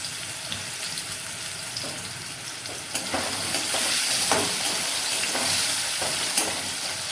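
Potatoes and pointed gourd frying in oil over low to medium gas flame, a continuous hiss and sizzle with occasional stirring scrapes and taps, growing slightly louder midway.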